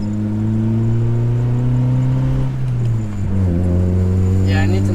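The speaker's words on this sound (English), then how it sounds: "we're gonna take it on a quick test drive" A Honda Civic on a short test drive, its engine humming steadily inside the cabin with strong low tones that dip and shift as the car eases off and picks up again, loud and continuous.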